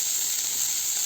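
Bottle gourd sizzles in hot oil in a home kitchen, a steady bright hiss lasting about a second with no voices.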